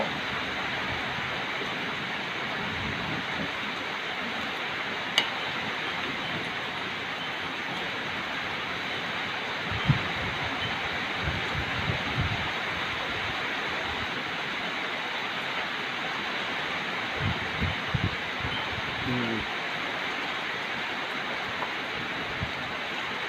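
Heavy rain pours down steadily outdoors in a constant dense hiss, with a few scattered knocks and thuds rising briefly above the downpour.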